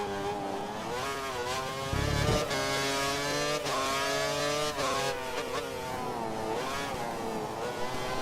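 A Sauber Formula 1 car in the racing game F1 2013 screams through rising and falling revs at the German race, with a brief low thump early on and sustained, harmonic-rich engine whine throughout.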